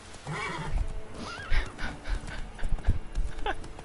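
A horse in The Witcher 3 whinnies with a rising, wavering call amid game sound effects and thuds as it kicks, then a few more short snorts and hoofbeat-like knocks.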